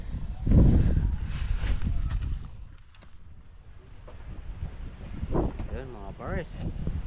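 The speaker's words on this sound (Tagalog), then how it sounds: "Malakas na naman yung hangin." Strong wind gusts across an outdoor vegetable garden, buffeting the microphone with loud low rumbling that surges at the start and then eases; people talk intermittently through it.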